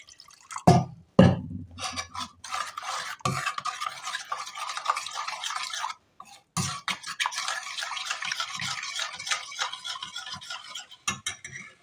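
Leftover lassi goes into gram flour batter and is worked in, giving close, wet sloshing and rapid whisk-like stirring that runs almost continuously, broken by a few short pauses and clinks against the bowl.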